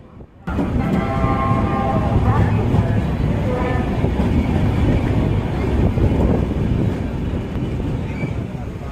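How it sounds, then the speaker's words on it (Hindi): Rajdhani Express train running into Meerut City, heard from aboard as a loud, continuous rumble and rattle of wheels and carriages with wind rush, holding steady for several seconds after a brief quiet start. "मेरठ सिटी में एकदम राइट टाइम ये ट्रेन पहुँची है।"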